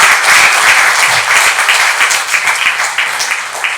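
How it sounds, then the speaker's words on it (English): At a memorial plenary session, a conference audience applauds the speakers with steady, dense clapping that stays loud for the whole stretch before tapering slightly. "let's give our speakers a warm round of applause"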